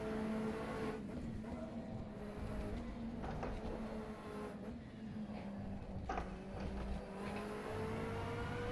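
Zakspeed LMP2 prototype race car in rFactor 2 during a 24 Hours of Le Mans event, its engine droning loudly and steadily through corners with shifting pitch, other cars around, no talk.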